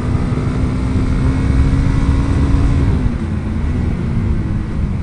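Motorcycle engine on a winding mountain road at Kelok 17, loud and steady with continuous wind and road roar, the engine note holding a constant pitch before dipping slightly after a missed gear shift, with no speech.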